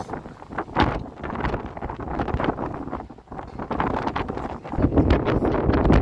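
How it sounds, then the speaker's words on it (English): Gusty wind roars and buffets the microphone on a cold downtown Toronto street on a Sunday afternoon, a steady broadband rush that swells and strengthens toward the end, with no clear talk over it. "Oh, now the wind is pushing us."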